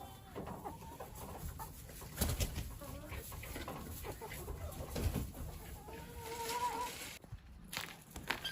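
Chickens cluck in a flock while following someone carrying chicken feed during farm chores, steady low clucks and bird calls continuing over shuffling footsteps, close and moderately loud.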